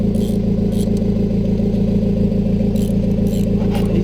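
Mazda Miata engine idling with its fuel exhaust running and no exhaust tips fitted, a steady low rumble with light clatter, loud and continuous throughout, with no voices.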